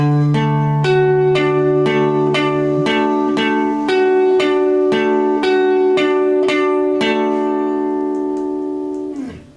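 A guitar slowly picks a riff, one clear note at a time in an even rhythm, with ringing harmonics and a held drone below, ending as the last notes fade.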